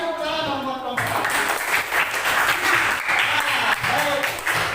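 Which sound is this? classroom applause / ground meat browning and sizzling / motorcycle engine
classroom applause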